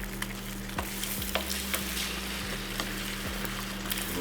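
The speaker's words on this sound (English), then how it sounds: "A little scramble happening" Seasoned eggs cook and scramble in an electric skillet in a hotel room, a close, steady sizzle with light scraping and tapping from stirring over a low electrical hum.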